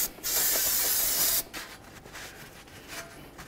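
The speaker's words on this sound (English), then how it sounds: "Next, I'm going to take some solvent, clean up this area." A spray bottle of solvent cleaner hisses in one long burst over the hub area of a 2005–2016 Ford Mustang front wheel, followed by a few short, softer spritzes and faint rubbing.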